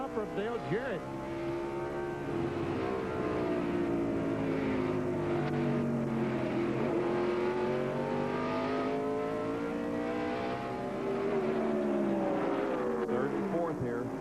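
NASCAR stock cars roar around the track at the 1996 Tyson Holly Farms 400, a continuous loud engine drone with rising and falling pitch as cars pass, under a commentator's voice.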